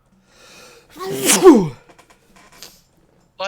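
A single loud, close sneeze bursts out mid-clip during a late-night Majora's Mask gaming session, preceded by a soft intake of breath and followed by quiet, scattered breaths.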